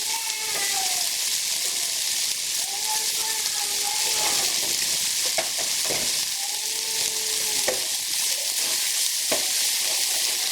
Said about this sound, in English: I just add a bit of rice and a smidge of soy sauce and mix it together